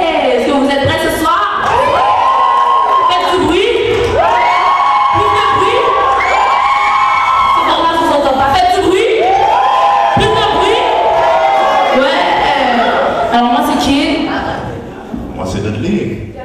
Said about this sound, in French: Je vous invite à l'applaudir aussi.